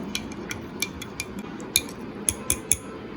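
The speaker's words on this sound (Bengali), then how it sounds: "এখন ফ্রেন্ডস দুধের সাথে এই এসেন্সগুলো ভালোভাবে মিশিয়ে নিব" A spoon stirring vanilla essence into milk for a chocolate moist cake batter, giving a series of light, irregular clinks against the bowl, close and fairly quiet, with no talking.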